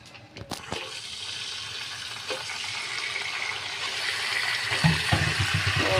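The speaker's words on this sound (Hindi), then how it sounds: "जो बाकी बचा हुआ तेल है वो हम इसमें ऐड कर देंगे और अब इस ऑयल के अंदर हम अपना चिकन डालेंगे।" Chicken hitting leftover hot oil in a pan for korma, a broad frying hiss that swells and stays steady as it cooks, close by with no talking.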